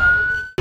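An emergency vehicle siren wails at an accident scene with a steady, piercing tone that cuts off abruptly, followed by a short burst of louder noise.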